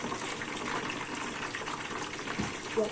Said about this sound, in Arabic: انا هخفها بشويه ميه صغيرين خالص.